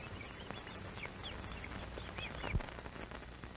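Week-old chicks on a farm peep in a scattering of thin, high chirps, faint against a steady hiss of old, noisy recording.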